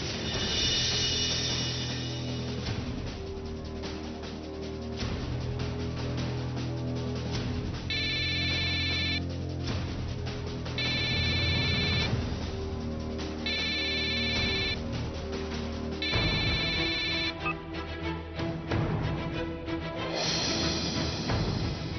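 Telephone ringing in a Marathi TV serial scene, a bright electronic ringtone repeating in four even bursts over a steady background music bed, with no talk.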